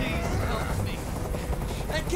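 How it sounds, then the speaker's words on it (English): Helicopter in the video game Detroit: Become Human, a loud continuous low rotor drone that runs through the whole moment alongside a speaking voice. "I can't stand that noise anymore. Tell that helicopter to get out of here."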